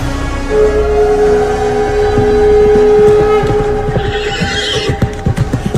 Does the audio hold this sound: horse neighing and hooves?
yes